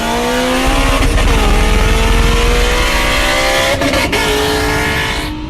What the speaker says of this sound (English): 800 plus wheel horsepower GT350 versus a 600 wheel horsepower 911 turbo